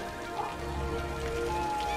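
Steady rain falls in a Cities: Skylines farming area, a soft even patter of drops that holds at a constant level throughout, with faint tonal game sounds drifting above it.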